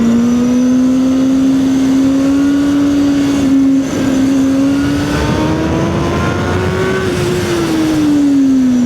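A CFMOTO 750SR-S sport motorcycle with an inline-four engine revs up steadily toward its 11,500 RPM redline, a loud, continuous rising wail that holds and climbs without any talking over it.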